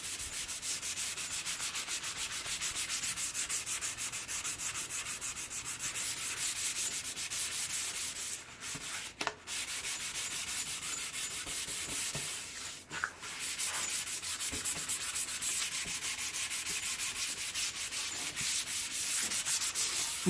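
Sandpaper rubs black paint off a skateboard deck in a continuous, close, rasping scrub, with two short pauses midway.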